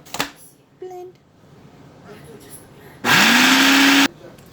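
A kitchen blender whirs at full power for about a second on a cheesecake mixture of melted butter and graham cracker crumbs, a loud steady motor roar rising in pitch, preceded by a few brief clicks and clatters.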